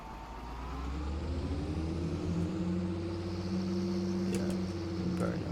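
Tractor engine running in Farming Simulator 22, a 7 Series machine idling with a steady low drone and a rising, slightly shifting tonal hum that holds throughout.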